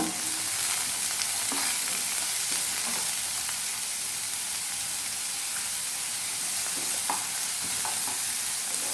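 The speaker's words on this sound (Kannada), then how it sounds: "ಇದನ್ನು ಸಣ್ಣಗೆ ಹೆಚ್ಚಿರುವಂತಹ ಬೀನ್ಸ್, ಫ್ರೈ ಮಾಡ್ಕೊಳ್ಳಿ ಸ್ವಲ್ಪ." Finely chopped beans frying in a pan for Schezwan fried rice, a dense, continuous close sizzle with light stirring clicks throughout, no voices.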